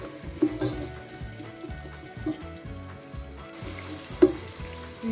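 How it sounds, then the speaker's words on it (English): Onion sizzles in hot oil in a pan for vegan basmati rice, a steady close crackle with a few louder pops and stirring scrapes. "Now it's hot, we can add the onion. And we'll fry"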